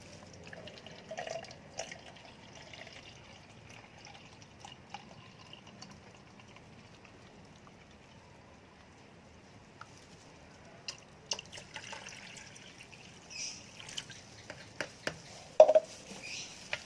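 Water being mixed with chlorine solution in a basin: quiet trickling and light splashing with scattered drips, growing busier and louder toward the end, no talking.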